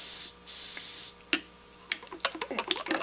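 An airbrush sprays water onto a scale model's nacelle surface in two short, close hissing bursts, followed by light tapping and clicking handling sounds.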